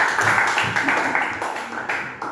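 A class of students claps together in a classroom, a brief burst of quick hand claps that fades as it goes.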